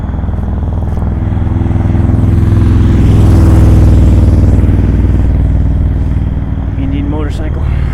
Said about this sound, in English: I think that's an Indian. Sounded like one.